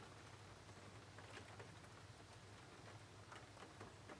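Steady rain patters against a room window glass, a dense continuous hiss of close drops with faint low rumble underneath, heard alone without any voice.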